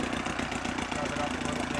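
An Evinrude Big Twin 25 HP outboard motor, fitted with a brand new water pump, idles smoothly with a steady, even putter. It holds a constant level throughout, close by and moderately loud.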